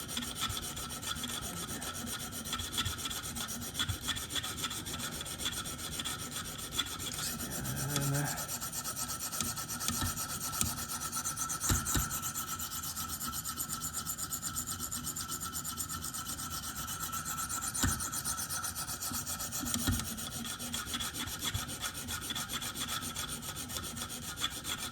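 A Spyderco PM2 knife with an S35VN steel blade is worked on a KME guided stone sharpener, giving a long, steady rasping rub of stone on steel in continuous strokes, close and moderately loud.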